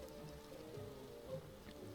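Rain on a video game map, a soft continuous patter of rainfall with a low steady hum underneath, fairly faint and with no talk.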